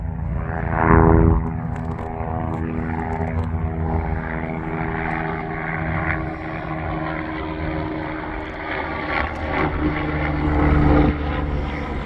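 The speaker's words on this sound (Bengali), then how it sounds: "হেলিকপ্টার আসতেছে একটা।" A helicopter approaches over a riverside heritage spot where people are fishing, its engine and rotor giving a steady droning hum that swells and fades slightly over the whole stretch.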